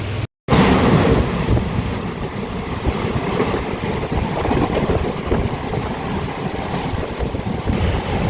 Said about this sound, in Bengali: হিজলি স্টেশন ছেড়ে দিয়েছে যা দশ মিনিট ডিলেতে চলছে ট্রেন